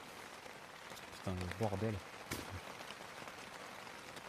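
Steady rain patters on a tent during a rainy hiking bivouac, a constant close hiss throughout while a man briefly mutters in French over it.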